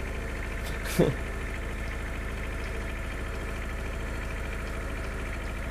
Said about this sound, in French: je suis pressé d'arriver avec ce tracteur